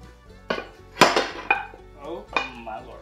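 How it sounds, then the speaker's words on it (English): Mac and cheese is dumped from a pot into a buttered baking dish, with several distinct metallic clanks and scrapes of cookware and a spoon, close and fairly loud, spaced unevenly over a few seconds. "I'm gonna dump all of this in here."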